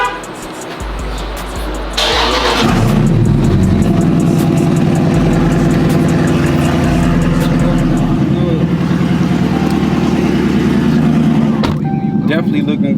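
A Chrysler 300 Scat Pack pulls out of a garage: after a quiet start, the engine fires up loud and close, then settles into a steady, deep rumbling idle with light revving throughout.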